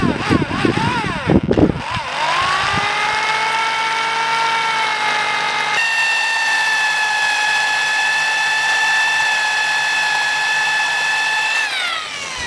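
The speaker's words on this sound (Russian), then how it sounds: "И сверлышком на 3 миллиметра сверлю." A small drill with a 3 mm bit whines steadily at high pitch for several seconds, close up, its motor tone shifting once midway, after a few brief clattering bursts at the start, while working on a Daewoo Nexia brake part.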